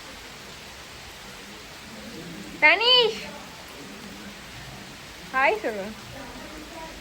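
Heavy morning rain falls in Chennai as a steady, even hiss, broken twice by short bursts of a voice speaking close by.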